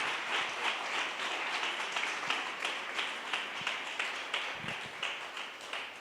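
A church congregation applauds steadily and fairly loudly, a dense wash of clapping with rhythmic swells that carries on throughout without any speech over it.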